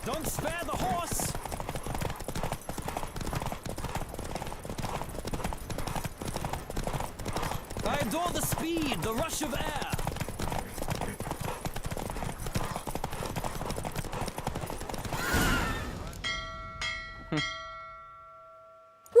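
Rapid hoofbeats of a horse racing flat out in The Witcher 3 drum on continuously beneath a spoken line, then cut off near the end as chiming game tones take over.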